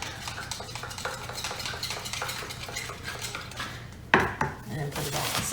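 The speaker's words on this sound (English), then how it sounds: "And at the end, I give it a nice big stir." A sheep manure sample is stirred briskly in flotation solution for a fecal egg count, with rapid rhythmic scraping and clinking in a container for about four seconds, then a louder knock, close up and without speech.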